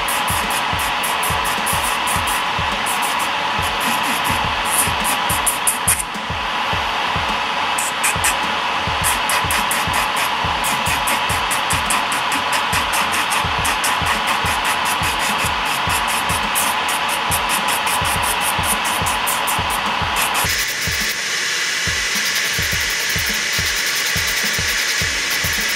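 A MelodySusie nail drill grinding steadily for a long stretch, loud, with a rapid repetitive scraping rhythm and a change in tone toward the end.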